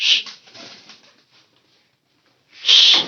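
Pigeons, including a white one, calling inside a house: a short burst at the start, softer fluttery calls, a near-silent gap, then a loud close call near the end.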